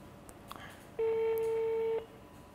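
A phone call on a telephone line gives one steady electronic beep about a second long. It stands out clearly over quiet background hiss, with faint noise before and after.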